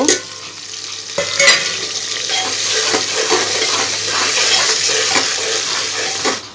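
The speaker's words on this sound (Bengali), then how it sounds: "আমি এই ফাঁকে চুলার পেঁয়াজ মরিচ দিচ্ছি" Onions and chillies fry on a stovetop with a steady broadband sizzle, broken by a few sharper clinks and scrapes of stirring, close and fairly loud, with no talk.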